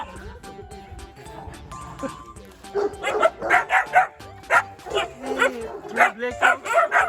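Three black puppies yip and bark in a quick, uneven run of sharp calls heard up close, with faint background noise before them.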